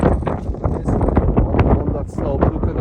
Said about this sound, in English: once we reach the top, got quite windy